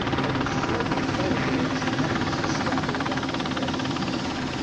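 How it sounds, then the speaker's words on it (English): A helicopter holds a steady, loud, thrumming drone with constant rotor chop throughout, close by and unchanging. "the helicopter came back to a hover outside the overhang"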